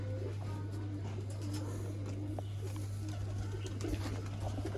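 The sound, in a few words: pigeons cooing, Teddy breeder pair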